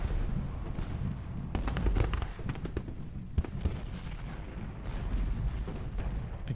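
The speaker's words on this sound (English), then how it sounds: "I keep hearing sporadic musketry, but I don't know where." Sporadic musketry in the Ultimate General: Gettysburg game, heard as irregular bursts of distant crackling gunshots over a continuous low battlefield rumble, with no talk.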